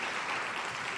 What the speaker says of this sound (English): Let's please applaud our council members